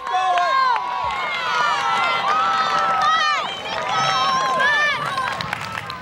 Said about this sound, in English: the crowd keeps cheering him on